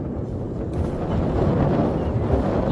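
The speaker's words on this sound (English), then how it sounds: "It's kind of windy. Windy today." Strong wind buffets a microphone outdoors during a jog, a constant loud rumbling roar that swells slightly partway through, with no voices.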